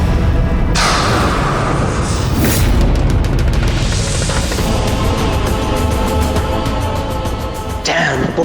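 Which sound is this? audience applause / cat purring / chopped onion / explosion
explosion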